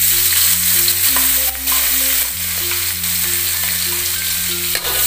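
Shallots, garlic and chili frying in oil for kampung fried rice, a loud continuous sizzle with stirring, over a steady background of tonal music notes.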